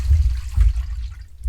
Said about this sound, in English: So guys, that noise what you just heard is the toilet flush.